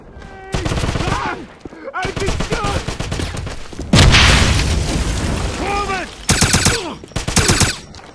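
Automatic gunfire rattles in rapid bursts during a Wolfenstein (2009) shooter mission at a dig site, loud and close, with heavier booms and shouted voices mixed in throughout.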